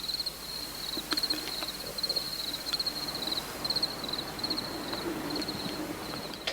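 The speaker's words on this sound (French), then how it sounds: "quelques grillons, si je monte le gain, chantent" Crickets chirp outside a window in short, regular trilled pulses, faint and steady against quiet background hiss, with no voices.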